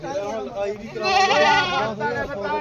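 A goat at a goat market bleats in a wavering, drawn-out cry that rises and falls, mixed with nearby talking.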